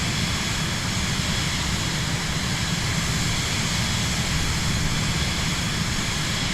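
A Vision Jet's jet engine in Microsoft Flight Simulator 2024 gives a steady, broad roar that holds at an even level throughout, with no talking.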